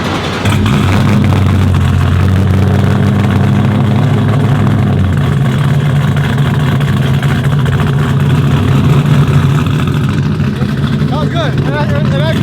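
A car engine, hard to start, cranks, catches and settles into a steady low idle, then revs up near the end, with people talking over it.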